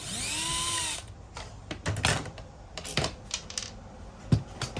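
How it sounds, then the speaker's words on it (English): Power drill backing out old hinge screws on a casement window: a short high motor whir at the start, then scattered clicks, clatters and handling knocks near the mic. "Right, so now we'll unscrew the old hinge."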